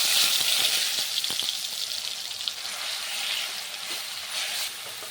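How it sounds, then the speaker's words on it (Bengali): A paste of ginger, garlic, onion and cashew fries with fennel in a pan, giving a steady close sizzle with soft crackles and a faint stirring scrape, no voices. "রসুন আর পেঁয়াজের কাঁচা গন্ধটা চলে যাওয়া পর্যন্ত ভাজতে হবে"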